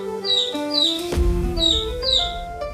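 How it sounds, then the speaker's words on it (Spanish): A baby chick chirps in several high, bright peeps spaced across the moment, clear and close over a soft tonal background, with no talking. "El pollito canta y dice."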